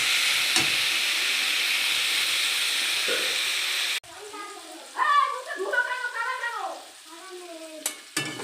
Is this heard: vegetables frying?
yes